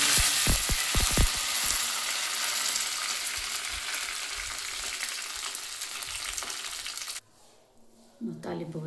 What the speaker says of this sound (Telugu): తాలింపుకు ఆయిల్ పోసిన, జీలకర్ర,